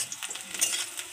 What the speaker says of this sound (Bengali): এবার আমি ক্যাপসিকামগুলো একটু ভেজে নিই।